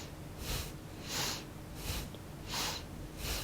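Slow nasal breaths through the nose alternate with each shoulder shrug in a Kundalini yoga posture exercise, five soft airy breaths in a steady rhythm, close and fairly quiet, with no talking.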